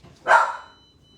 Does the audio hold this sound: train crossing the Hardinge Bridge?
no